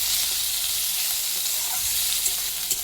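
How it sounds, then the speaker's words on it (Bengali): Ripe tomatoes and other ingredients for an egg omelette curry fry together in a pan with a loud, steady, close sizzle, with faint stirring scrapes now and then. "সবগুলোকে একসাথে ভেজে নিচ্ছি"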